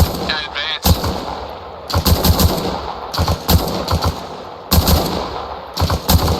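Bursts of machine gun fire in ARMA Reforger, loud rapid volleys repeating in clusters with short gaps between them, close and sharp.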